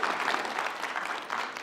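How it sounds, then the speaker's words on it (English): Audience applause in a church ministry reflection setting: a steady, dense patter of clapping from a crowd at moderate distance, continuous throughout. "I noticed you applauded, and that's nice"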